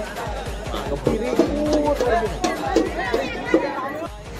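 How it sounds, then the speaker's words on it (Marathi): Busy crowd chatter at Lohgad fort, many overlapping voices forming a steady hubbub, with some nearer speech standing out above the murmur. "आता गर्दी वाढली मला"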